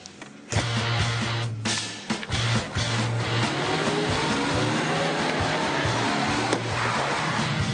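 Cars in a security-driver training convoy manoeuvre hard during a simulated attack, with loud, close engine roar, changing revs and clunks of impact and jolting throughout.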